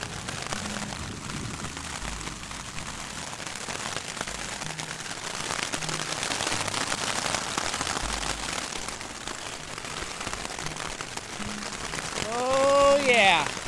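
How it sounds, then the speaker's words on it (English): Thunderstorm rain falls on a mountain pass at 12,000 feet among trees, a dense steady hiss of drops drumming on a surface, close and constant, with a brief voice near the end. "Oh yeah, riding out another thunderstorm."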